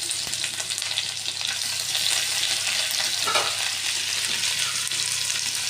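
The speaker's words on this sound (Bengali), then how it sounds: "একটু যখন তা দিয়ে দিই তেলের মধ্যে তখন একটু তেলটা ছিটে ছিটে পড়ে" Chopped garlic and ginger fry in hot oil with a dense, steady, loud sizzle, brief spits and splatters crackling through.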